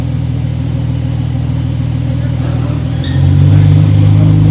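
A sports car's exhaust burbles loudly at idle, then a rev lifts it into a deeper, louder sustained roar.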